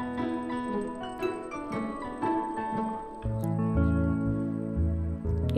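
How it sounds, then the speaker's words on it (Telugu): Water splashes and gurgles into a pot of frying mutton curry, with a brief sizzle and clink, then a steady liquid burble close by. "ఇప్పుడు ఇది ఉడకడానికి సరిపడా వాటర్ వేసుకుందాం."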